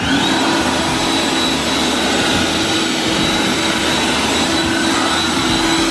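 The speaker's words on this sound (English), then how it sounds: "the turbo blower" A high-powered turbo blower roars steadily at close range while drying an LS1 engine for a blackout paint job, a loud continuous whooshing whine with a tonal hum that holds unbroken throughout.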